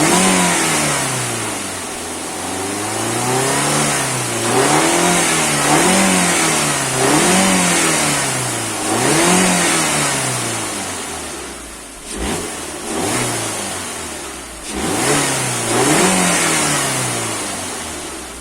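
A 2.0 FSI engine in an Audi A3, fitted with a cone air filter and a closed airbox, revs up and down repeatedly in rising and falling sweeps, close and fairly loud. It settles briefly to idle between some revs.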